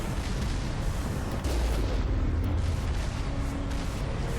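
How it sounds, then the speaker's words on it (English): Missiles exploding in the space-combat video game Mass Effect, a dense, continuous rumble of booming blasts and low roar, loud and sustained with no talk over it. "Let's just fly directly into the path of the missiles."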